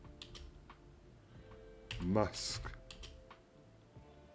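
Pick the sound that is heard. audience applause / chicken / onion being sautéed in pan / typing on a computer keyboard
typing on a computer keyboard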